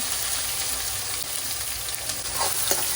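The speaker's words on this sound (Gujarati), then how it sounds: "ત્યારબાદ આપણે કાંદા એડ કરી દેવાના છે." Onions hit hot oil already crackling with cumin, asafoetida, sesame and carom seeds, giving a steady, dense sizzle and fry hiss with faint stirring clinks, close and continuous with no talk.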